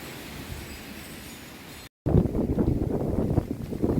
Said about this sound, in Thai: ลมแรงมากนะคะ ตอนนี้